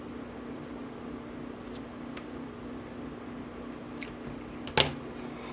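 Scissors snip through dog collar material, two or three brief faint cuts over a quiet hum of room noise, the sharpest near the end.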